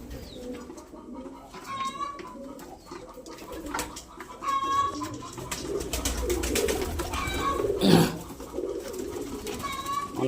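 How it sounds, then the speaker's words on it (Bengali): Pigeons with 5-inch chests at a pigeon show in Kolkata coo in soft repeated bursts, with other bird calls and crowd murmur around them and a louder cluster of activity partway through. "এটা 5 ইঞ্চি পাঁজার পায়রা"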